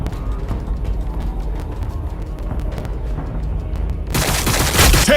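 Rapid bursts of gunfire in a Warhammer 40K video game, a dense crackling volley that swells loud and close near the end over a low rumbling battle backdrop, with no talk.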